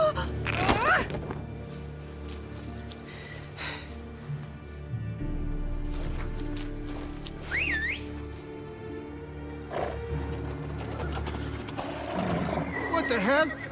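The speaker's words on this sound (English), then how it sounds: "Horses? Ready our horses!" Horses neighing in The Witcher 3, with a couple of sharp whinnies among music and game sounds, and some hoof clatter.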